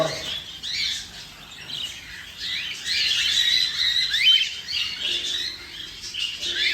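A flock of budgerigars chatters and chirps steadily in a flight cage, dense overlapping squawks and tweets close by with occasional wing flutters, no talking.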